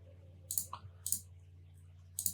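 Three sharp mouse clicks in 3ds Max, spaced about half a second apart then a longer pause before the last, crisp and close over a low steady computer hum.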